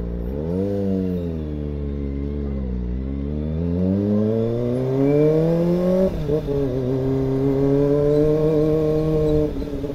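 A Kawasaki ZX25R motorcycle engine revs high and climbs through the gears as it rides off, a loud, close, rising whine with short dips at the shifts and no talk.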